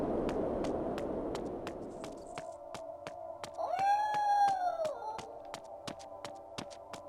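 Compressed digital cat meows from the Blood Omen 2 video game, a wavering, rising and falling meow in the middle over a quiet game hum, with regular faint clicking ticks and some noisy static at the start.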